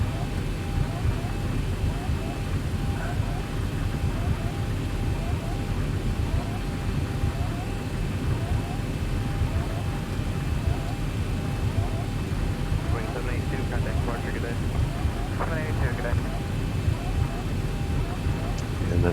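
Boeing 737-800 in the X-Plane flight simulator rolling for takeoff at Jackson Hole, a steady loud engine roar and rumble with a constant whine, continuing unbroken under intermittent talk.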